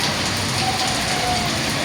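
Heavy rain pours steadily during an afternoon downpour in Karachi, a dense continuous hiss close by with no break.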